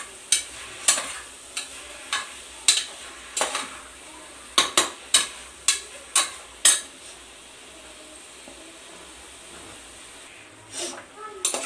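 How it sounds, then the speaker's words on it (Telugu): Chicken fries in a pot for chicken biryani while a metal spoon stirs it, a run of sharp scraping clanks at a steady pace over a soft sizzle, then a quiet stretch and a few more clinks near the end. "ఇలా కొంచెం ఫ్రై అవ్వాలి."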